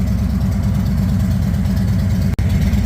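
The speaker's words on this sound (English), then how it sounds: "Listen to the Harley." A Harley-Davidson motorcycle engine idling in a garage, a loud, steady low rumble that continues without a break, with one brief sharp dropout near the end.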